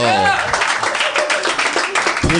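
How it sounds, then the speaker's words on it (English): A live comedy-podcast audience breaks into clapping, a dense patter of many hands lasting a couple of seconds, with a voice talking over it at the start. "Let's hear some claps."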